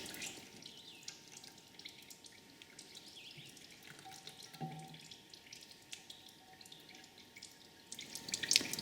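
Automatic transmission fluid drains from the pan of a Dodge Grand Caravan 3.6 V6 into a drip tray, a faint continuous trickle with occasional drips, quiet and steady throughout with no talk.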